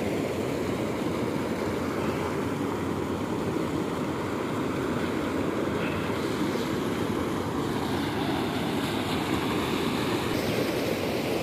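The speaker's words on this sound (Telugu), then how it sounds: "ఇక్కడ గుట్టపైన నుంచి నీళ్ళు అయితే వస్తున్నాయి" Water runs down from a hillside into a full lake at Madanapalle, a steady, even rushing wash that continues unbroken at moderate distance, with light wind buffeting the microphone and no talk.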